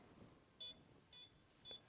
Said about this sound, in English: you see it's beeping because I have the beeps on